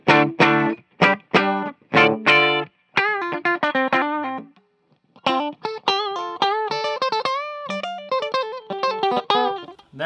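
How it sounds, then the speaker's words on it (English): Distorted electric guitar through the bridge pickup of a 2019 Gibson Les Paul Modern Faded, played alone as loud, punchy chord stabs that give way to rapid single-note riffing with short pauses between phrases. "That bridge pickup, it's really punchy."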